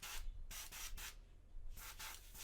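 An airbrush sprays paint in short bursts, a close soft airy hiss switching on and off in quick rhythmic pulses while layering skin tones on a painted figure.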